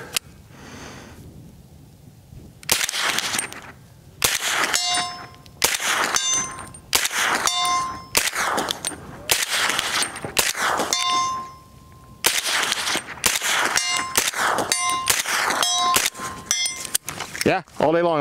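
A PSA JAKL rifle in .300 Blackout fires about ten loud shots at a steel C-zone target 100 yards out, and each crack is followed by a ringing metallic ding, with pauses between shots and voices talking at times.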